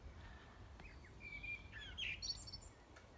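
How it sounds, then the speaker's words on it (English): Exotic non-native birds chirp and trill in a quiet outdoor setting, several bright, brief calls overlapping at moderate distance over a low background rumble. "These are such exotic birds that don't actually,"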